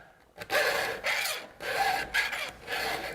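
Hand files rasp across a chainsaw chain in a sharpener guide, several close, steady strokes with brief pauses between them.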